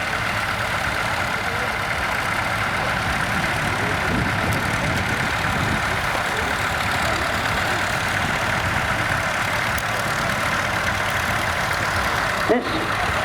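A Morris van with a 1.5 diesel engine idles steadily close by, a constant rough low rumble for the whole stretch, with a brief clunk near the end.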